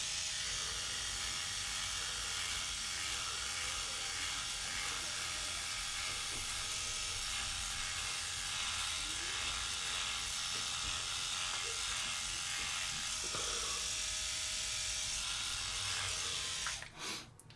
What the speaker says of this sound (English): I'm not a fan of rotary shavers anyways, and they just miss too many hairs.